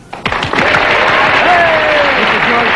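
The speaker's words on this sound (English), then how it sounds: "cue the clap now" An audience breaks into sustained applause on cue, swelling after a brief quiet start into a dense, steady wash of clapping with some voices mixed in.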